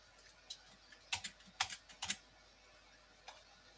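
Computer keyboard typing during a class on processes and signals, a short quiet series of crisp key clicks in a small cluster, then one more tap after a pause, with no talk.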